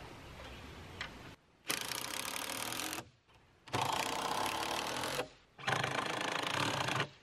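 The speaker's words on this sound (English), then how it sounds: "I'm using 2-inch exterior grade Torx head screws to put this plywood onto the frame. Just using an impact driver here." An impact driver sinks 2-inch exterior-grade Torx screws into heavy plywood on a playhouse frame: three loud, close, rapid hammering bursts of one to two seconds each, separated by short pauses.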